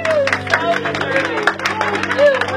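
An audience at a teacher excellence award ceremony applauds with steady, dense clapping, and voices mingle in the background throughout.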